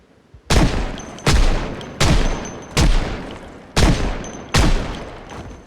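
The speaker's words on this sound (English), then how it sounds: "So this time, I stay down and I make quite a few shots." Six sharp gunshots ring out at roughly even intervals in a zombie survival video game set on rooftops. Each is loud and close with a short decaying tail, and no one speaks.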